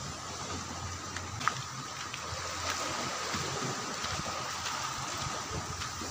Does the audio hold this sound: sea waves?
yes